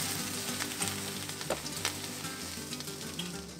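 Onion slices and a garlic clove frying in a little hot oil, a steady close sizzle with faint crackles throughout and no voices.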